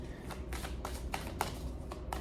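A deck of tarot cards is shuffled by hand in a quiet room, giving a faint series of soft, rhythmic riffles and snaps with no talk.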